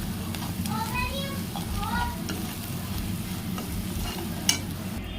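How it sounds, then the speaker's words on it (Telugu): Ginger, garlic and coconut masala paste fries in a pan for fish fry, giving a steady close sizzle with occasional stirring scrapes while someone talks over it and a brief clink sounds near the end. "మసాలా ముద్ద అది కూడా ఇందులో వేసుకొని పచ్చివాసన సేపు కూడా వేయించుకోవాలన్నమాట"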